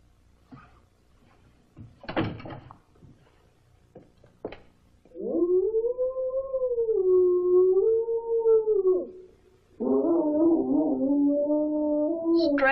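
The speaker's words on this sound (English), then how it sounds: "Stray dog." A stray dog howls in the woods in long, wavering drawn-out cries, two sustained howls following a few scattered knocks and clatters.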